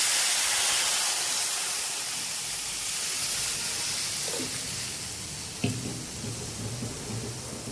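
Water in a cooking pot rises toward a boil with a steady, loud hissing and bubbling roar that eases a little over time, and a few faint clinks sound near the end.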